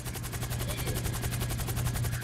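A badly damaged helicopter in GTA Online gives off a rapid, even rotor thudding. The chop is loud and continuous throughout, with no talk over it.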